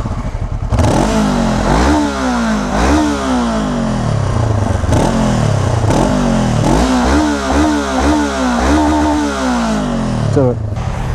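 A 2017 Honda CBR 500R motorcycle with its stock exhaust, revved repeatedly while standing: the engine climbs sharply in rising sweeps and drops back, about seven loud blips in a row over a steady idle, close and dominant.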